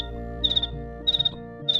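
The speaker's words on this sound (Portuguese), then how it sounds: "Tudo apagado, só som de sapos e grilo." Crickets chirp at night in a dark, quiet rural house, giving three evenly spaced bursts of rapid high trills over a faint steady low hum.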